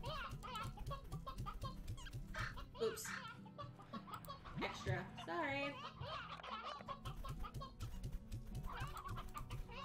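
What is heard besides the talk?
chickens clucking in Slime Rancher video game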